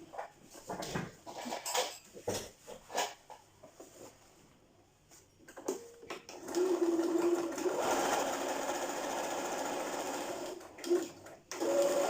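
A domestic sewing machine stitching the waistband pieces for a pencil skirt, with short bursts of stitching and handling noises first, then a long steady whirring run that stops briefly and resumes.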